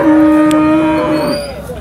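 A cow at the Sangola cattle market in Maharashtra lets out one long, loud, close moo lasting nearly two seconds, with faint market noise behind.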